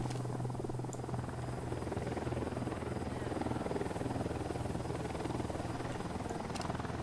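A helicopter in the video game Ghost Recon Wildlands, its rotor thumping in a steady, continuous drone under gentle background game ambience.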